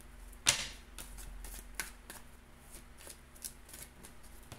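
Close, brisk shuffling of a Gypsy fortune-telling card deck, a run of quick riffling bursts and flutters with a sharp snap near the start, no talk.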